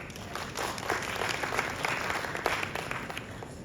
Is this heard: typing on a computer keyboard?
no